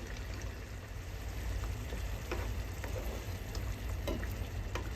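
Tomato and fermented fish chili paste cooks down in a pan until its liquid dries, giving a steady, close, bubbling sizzle with occasional scrapes of stirring and no voices.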